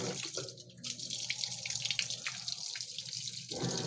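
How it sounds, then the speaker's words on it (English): A GE washing machine's circulation pump moves water inside the drum, a close, steady gushing and splashing with small dripping accents throughout, loading bath towels. "It's surprising me how the circulation pump's doing its thing."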